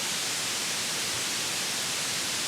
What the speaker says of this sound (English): let's just kind of do a quick demonstration here with some white noise